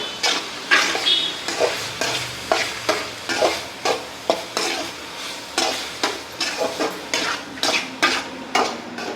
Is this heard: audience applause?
no